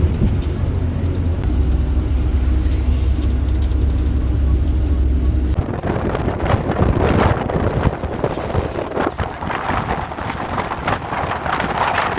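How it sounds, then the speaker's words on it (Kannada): Strong wind buffets the microphone in a steady low roar, shifting partway through into gustier, rougher rushing noise. "I am enjoying this weather and this ಗಾಳಿ"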